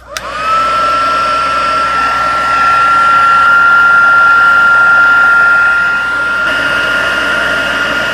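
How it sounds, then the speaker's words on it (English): Heat gun switched on to its high setting while making layered paper cards, starting abruptly and settling into a loud, steady whooshing roar with a constant high whine, running close and unbroken for about eight seconds. "Then we'll bring in our heat gun, and I'm going to turn it on high"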